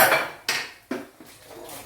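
Metal clatter from opening a pressure cooker after the steam has been released, with beef cooked inside for a fry: three or four sharp, close clanks of the metal lid and pot, each ringing briefly, with no talking.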